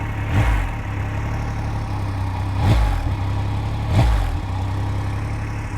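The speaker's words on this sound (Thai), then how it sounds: "ก็เสียงของ เครื่องยนต์แบบ 3สูบเรียงนะครับ ก็ ค่อนข้างที่จะกระหึ่ม" A Triumph Rocket 3 R motorcycle's large inline three-cylinder engine idles with a deep, rumbling throb through its stock factory exhaust, swelling into three short revs spaced a couple of seconds apart.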